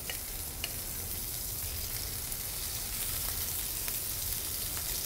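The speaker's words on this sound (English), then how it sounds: "And you can hear that sizzle" Steady, close sizzling of squash frying in a hot pan, a constant crackling hiss with a few small pops and no talking.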